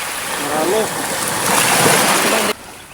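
Sea water washing and splashing at the shore, a steady broad wash of waves fairly close and loud, with a brief voice early on and the surf noise dropping sharply near the end.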